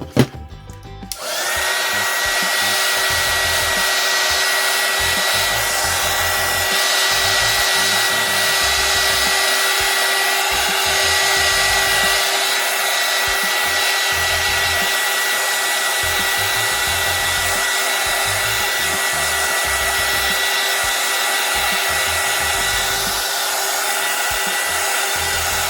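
A hair dryer blows on Valentine's table decor, switching on after a brief moment and then running as a loud, steady whooshing whine for the rest of the time.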